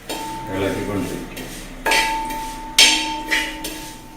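Vermicelli being stirred and roasted in a pan, a spoon knocking and scraping against metal in a few sharp clinks with quieter rustling between, close and moderately loud, with no voices.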